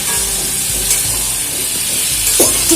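Bottle gourd stirred in a pan with cumin and green chili paste: a close, steady sizzle and hiss with scraping stirs and a brief clatter near the end, no talking.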